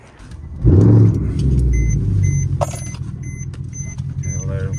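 A car engine starts and settles into a steady idle while warming up, close and loud at first, with chiming beeps and faint key jangles over the running engine.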